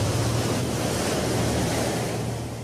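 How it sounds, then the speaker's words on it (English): Steady roar of ocean surf, continuous broadband wash of breaking waves with some wind noise, loud and unbroken with no voices. "they can generate killer waves called tsunamis"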